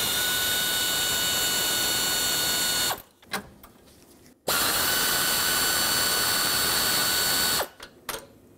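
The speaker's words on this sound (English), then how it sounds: "I'm going to start over here, unbolt it" A power tool spins out 8mm bolts holding a cooler to the radiator of a 2008-2010 Ford F-250 pickup, two long steady whirring runs broken by a pause with faint clicks, loud and close.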